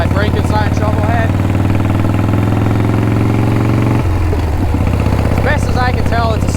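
A Shovelhead chopper, a 1971 engine in a 1974 frame, idles with a loud, lumpy low rumble throughout, the pitch shifting briefly midway, while someone talks over it.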